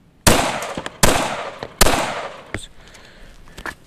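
Three loud, sharp gunshots fired with reloaded brass cartridges at regular intervals, each with a decaying echo, followed by fainter clicks and handling sounds.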